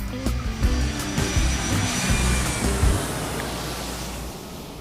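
Airplane jet engine roaring during takeoff, a loud broadband rumble with low throbbing that holds steady then gradually thins out, with no talking.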